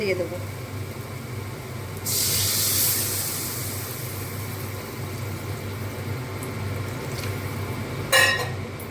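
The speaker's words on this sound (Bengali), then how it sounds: "জলটা দিয়ে মশলাগুলো জলের সাথে ভালো মতো মিশিয়ে নেব" Water is poured into spice paste frying with soft potatoes in a pan for a thin katla fish curry, giving a sudden loud hiss at about two seconds that slowly fades under a steady sizzle, with a brief sharp burst near the end.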